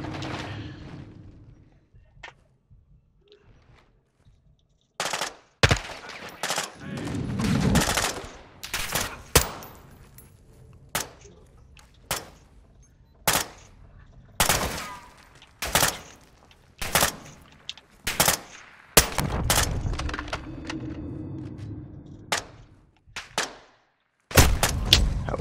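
Bursts of automatic and single-shot gunfire in the Modern Warfare 2 campaign crack out loudly in irregular volleys, separated by short gaps across the whole stretch.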